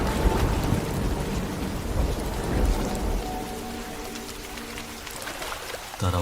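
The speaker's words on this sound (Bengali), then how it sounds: "ঠিক তখনই বিকট আওয়াজে দূরে কোথাও যেন বাজ পড়ল।" Heavy rain pours down steadily on a monsoon flood night in a Bengal village, with deep thunder rumbling through the downpour, strongest early and easing toward the end, all dense and close.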